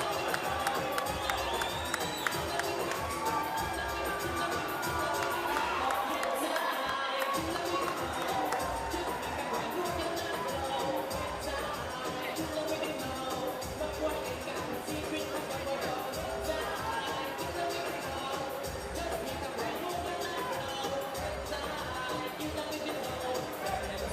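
Boxing arena crowd stirring as Miguel Cotto makes his entrance, a dense sustained roar of cheering and chatter from a large distant audience, with a commentator speaking over it.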